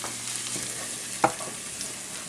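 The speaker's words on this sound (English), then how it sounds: "Just saute this and let the onions become translucent." Minced shallots and jalapeños with garlic sautéing in a pan: an even, soft sizzle throughout, with one sharp stir or scrape near the middle.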